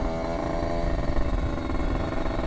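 Kawasaki Ninja 250 fitted with a Faito Racing exhaust, its engine running loud and close in a steady rough buzzing drone with slight rises in revs.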